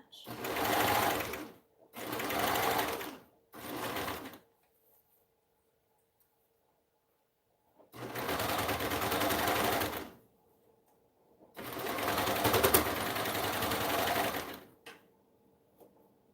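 Sewing machine stitching slowly over thick seams, running in several bursts: three short runs, a long pause, then two longer runs, with a faint background hum between.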